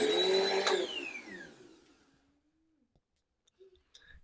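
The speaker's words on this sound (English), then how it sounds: "I plug the vacuum into the wall down here and I have the cord out." A Bissell CleanView Swivel Rewind (2254) upright vacuum whines loudly, then its motor winds down in a falling pitch to near silence, followed by a few faint clicks.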